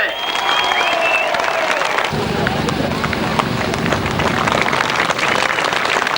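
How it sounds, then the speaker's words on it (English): Sustained applause from a crowd at a 1993 grasstrack motorcycle racing event, a dense wash of clapping that continues steadily with a voice speaking over it at the start. "thank you for showing your applause"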